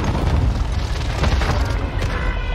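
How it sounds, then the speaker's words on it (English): Cluster airstrike explosions in Call of Duty: Warzone on Caldera roll in a loud, continuous low booming rumble, with overlapping blasts that blend together. "Airstrikes, clusters."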